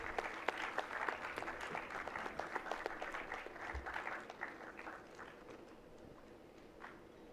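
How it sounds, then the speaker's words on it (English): A crowd applauds with dense, steady clapping that gradually thins and fades toward the end. "A big round of applause, everyone."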